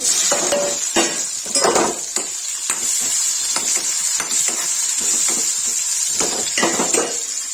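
Cumin seeds sizzle in hot oil with asafoetida while stuffed eggplant is being made, a steady bright hiss broken by the clicks and scrapes of a spoon stirring against the pan, close and loud.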